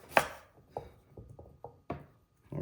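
A knife chops carrot into julienne strips on a cutting board, about seven crisp, close taps in an uneven rhythm with short pauses between them.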